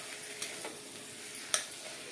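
Frying chukkakura mutton curry hisses quietly in a pan as salt is stirred in, with a couple of faint spoon taps over the steady low sizzle, no voices present.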